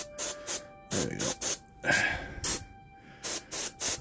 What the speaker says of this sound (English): Come on, stop spraying water.